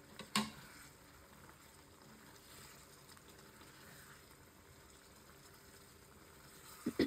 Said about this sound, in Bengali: আমি এখন ভাজা ফুলকপিগুলো দিয়ে দেবো।